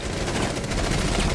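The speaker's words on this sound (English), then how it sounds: "I'm getting shot from two different directions right now." Rapid gunfire in the Rainbow Six Siege video game, a dense, loud burst of overlapping shots with no break, heard close over the whole stretch.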